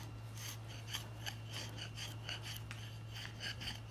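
Flat chisel scraping bark from wood for Hawaiian carving, a series of quick rasping strokes in an uneven rhythm, close but fairly quiet over a low steady hum.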